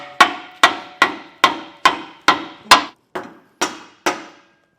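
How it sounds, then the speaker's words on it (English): A hammer strikes a Blue Ox tow bar base plate being fitted onto a 2018 Jeep JK Wrangler, giving about ten sharp, ringing metallic blows at a steady, roughly half-second rhythm, close and loud, with no talking. "So I'm going to kind of hit this up until I get the holes aligned on both sides."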